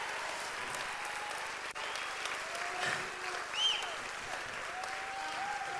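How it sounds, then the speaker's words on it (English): A church congregation applauds for the Lord at a Sunday service, a steady crowd clapping held at an even, moderate level across the whole stretch, with faint tonal sounds above the wash of hands. "Give the Lord a hand clap."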